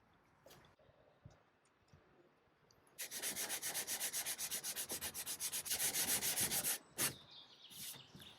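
A hand scraper pulled over old, damaged mahogany veneer on an Art Deco oak sideboard, with rapid rhythmic rasping strokes in a fast series after a quieter start, then a few final scrapes.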